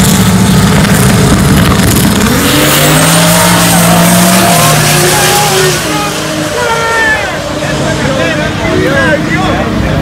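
A Mustang and a Nissan S14 240 make a drag race pass, engines roaring loudly and continuously with squealing tires, while voices carry under the racing noise.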